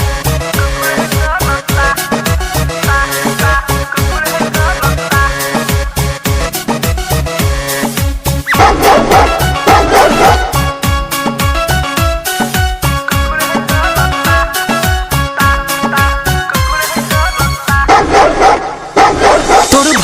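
Dog barks woven into a loud, busy Bhojpuri song, the yapping blending with the dense beat and music throughout.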